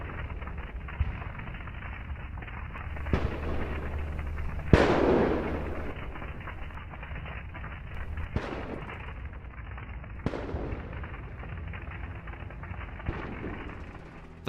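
Blasts and detonations from a HIMARS rocket strike on a Russian military convoy, with fire and exploding shells: scattered sharp bangs and pops of varying loudness, one heavier burst standing out, over a continuous rumbling background.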